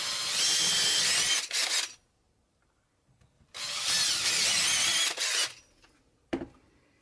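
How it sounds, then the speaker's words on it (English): A power drill bores holes through electric skateboard mudguards in two loud whirring bursts separated by a quiet gap, then a single sharp knock. "Let's drill them out."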